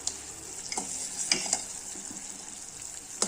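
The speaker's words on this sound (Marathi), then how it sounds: "साखर विरघळीच आहे अजून थोडस उकळू द्यायचंय" Sugar syrup for jalebi bubbles and hisses in a pan nearby, broken by a few light scrapes and clinks of stirring.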